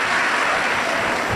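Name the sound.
audience applause at a religious discourse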